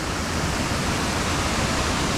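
Water pours over a pond dam in rain, a dense, steady, close rushing roar with no break.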